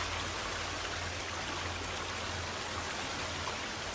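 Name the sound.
flowing water in a cave, from video game The Forest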